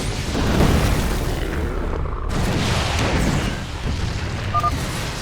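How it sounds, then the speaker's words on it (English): A StarCraft 2 barricade blows apart in a deep, sustained rumbling explosion that fills the whole stretch, loud and close, with the blast settling into a rolling roar. "Dominion barricade destroyed"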